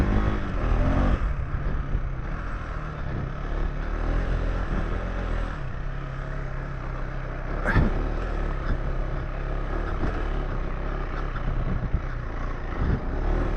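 A KTM 390 Enduro R single-cylinder dual-sport bike rides off-road single track, with a steady engine drone and wind rumble and one sharp knock midway.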